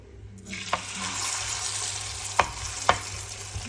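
Eggplant slices hit hot oil in a pan and sizzle steadily at close range, with a few sharp clinks of a large ladle against the pan; no talking.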